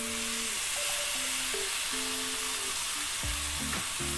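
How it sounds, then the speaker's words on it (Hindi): Masala with tomato puree for chhole fries in a pan, a steady dense sizzle throughout with soft stirring scrapes and light clinks of a spoon, close and alone without talk. "और इसे अच्छे से भूनेंगे।"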